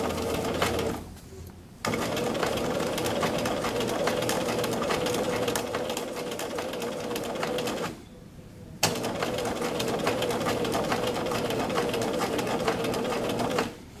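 A sewing machine runs steadily, stitching fabric along a stitch line while setting a sleeve placket, its even whirring motor broken by two short pauses, with no talk over it.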